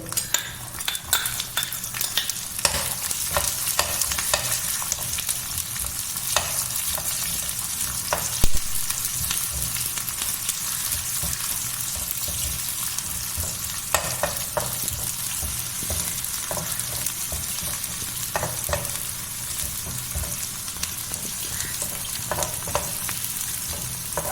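Shallots and dried red chillies fry in hot oil for a pumpkin dish, a loud continuous sizzle close by with frequent spoon scrapes and metal clinks against the pan.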